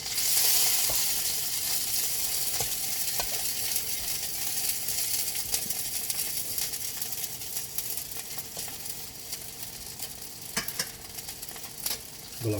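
Vegan sausages sizzle steadily in a frying pan, a continuous close crackle of hot oil with occasional soft clicks and taps of a utensil, no voices.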